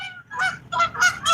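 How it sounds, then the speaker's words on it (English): Geese honk on the water at a fishing spot, a run of four loud, nasal calls in quick succession, close by and alone without talk. "Get out of my water, geese."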